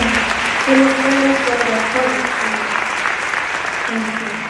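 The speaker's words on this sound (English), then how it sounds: "Can I request us to give them a round of applause for this appointment?" Audience applause at a university honorary doctorate conferment ceremony, a steady wash of clapping throughout with a voice talking over it.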